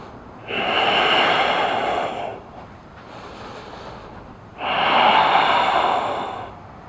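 Slow, deep breathing during a floor shoulder mobility stretch, two long loud airy breaths about four seconds apart, each lasting close to two seconds with a softer exhale between them, close up with no talking.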